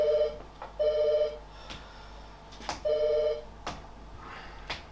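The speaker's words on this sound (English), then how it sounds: "You are about to receive a phone call from an inmate at Port Phillip Correctional Centre." A telephone rings with an incoming call: two bursts of electronic ringing separated by a pause, clear and close, with a few clicks and knocks in between.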